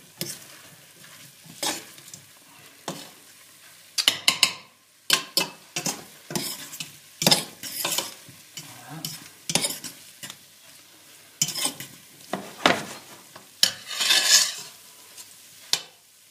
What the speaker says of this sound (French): On mélange le tout tranquillement. On met sur le feu.